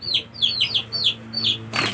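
A chicken fighting a larger, older duck gives a run of five quick, high squawking clucks in even rhythm over a low hum, ending in a burst of noisy wing flapping close by.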